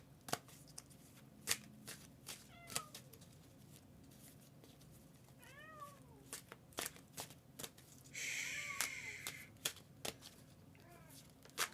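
Tarot cards are shuffled quietly with soft riffling and sharp taps, a few brief chirpy squeaks, in a hushed room with no talking.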